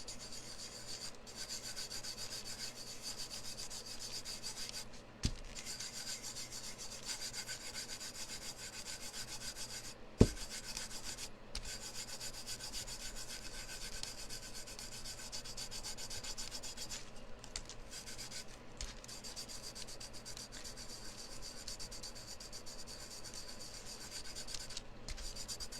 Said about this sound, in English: Brush it, rub it just a little bit more.